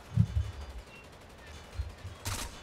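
Blind-fire gunshots in Rainbow Six Vegas, a few low muffled bursts early on and a sharper crack near the end, moderately loud with faint voice under the shots.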